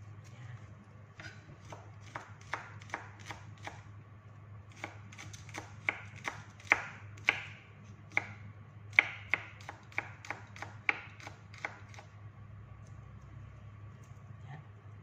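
Garlic chopped with a knife on a board while preparing mini vegetable lumpia, a steady run of crisp, close knife taps in quick bursts with short pauses, over a low background hum.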